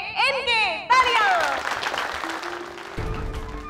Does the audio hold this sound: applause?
yes